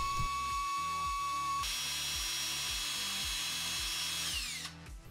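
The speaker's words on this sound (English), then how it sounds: "drill a pilot hole through this bolt to make sure it's perfectly straight" A power drill whines steadily, its pitch shifting as it bores a pilot hole into a broken Toyota brake line bolt, with rhythmic low pulses of strain throughout before winding down near the end.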